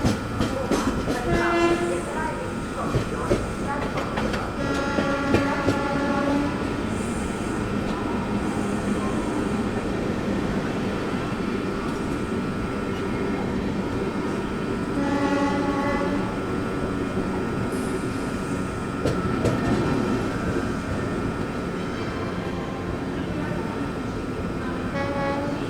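The Howrah–New Delhi Poorva Express rolls past with a steady rumble and rhythmic clatter of wheels over rail joints, sounding its horn several times over about twenty-five seconds.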